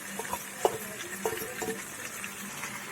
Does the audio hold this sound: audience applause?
no